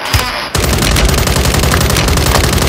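Call of Duty Warzone gunfire: after a brief lull, a loud, dense automatic burst of rapid shots keeps going without a break, close and harsh, with no voices over it.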